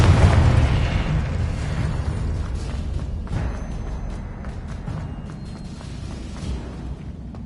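Confringo fire-blast spell in Hogwarts Legacy, a deep booming explosion that bursts loudly at the start and rumbles on, slowly fading as a low roar.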